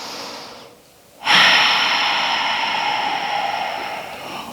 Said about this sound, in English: deep breath here